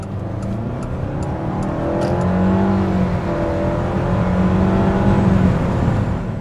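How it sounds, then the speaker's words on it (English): A 2022 Mitsubishi Outlander, a two-wheel-drive model with a CVT, accelerates from close inside, its engine whirring with a rising, smoothly climbing drone for several seconds, and nobody speaks. "Let's hit the gas here."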